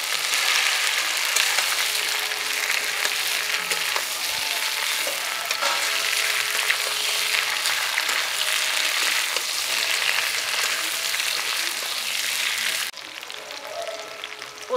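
Fried mixed vegetables, with drumstick and green banana for a sweet shukto, sizzle steadily in a pan as they are stirred, a dense continuous crackle that drops off sharply near the end.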